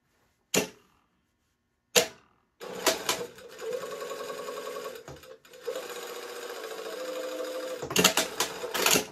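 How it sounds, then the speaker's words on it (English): A sewing machine stitches the yoke seam of a cotton lawn shirt dress, starting after two sharp clicks with a rapid, steady whirring run, a short pause, then more stitching and clattering stops, close and fairly loud. "sew towards center back, also at 1/4 inch"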